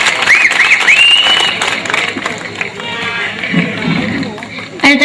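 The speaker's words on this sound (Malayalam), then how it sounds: "എന്താരും ഒന്ന് കൈയടിക്കത്, ഒന്ന് കൈയടിക്ക." An audience at a Malayalam comedy stage show claps, with a dense patter of applause and crowd noise that fades partway through, while a voice and other sounds come in over it.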